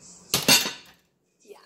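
A Chicago Cutlery kitchen knife is handled, giving a few quick close metallic clinks and scrapes within about a second, followed by quiet.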